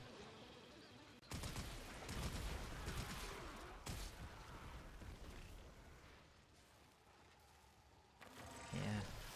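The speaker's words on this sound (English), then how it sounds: "it is funny to see the Bubonico go firing off at 18 miles an hour" Rapid automatic weapon fire from the Bubonico in Warframe, a dense sustained burst of shots running for several seconds, with dips and renewed surges amid game effects.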